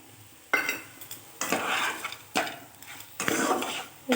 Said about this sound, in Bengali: এবার বড়ি ভেঙে রাখা বড়িটাও আমি দিয়ে দিলাম।